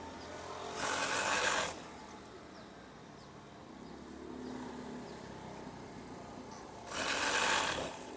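A sewing machine stitches in two short bursts of rapid whirring at the start and end, close and steady, with a quieter pause of faint handling noise between them.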